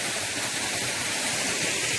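Panasa Falls, a small waterfall in the hills near Madanapalle, gives off a steady, dense hiss of falling water, even and unbroken with no voices.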